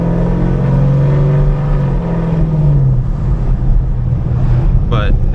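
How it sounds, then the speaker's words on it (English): A Camaro engine running with a slight misfire, a loud, steady rumble with a faint pitch sweep, set against strong wind buffeting the microphone and a brief higher sound near the end. "it seems like the car is missing by a little bit"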